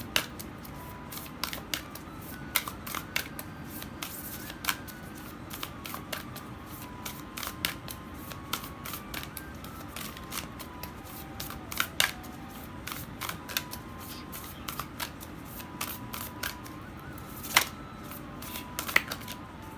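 Cards drawn and handled during a tarot-style card reading, with soft, sparse snaps, flicks and shuffling clicks at irregular intervals over a quiet room background.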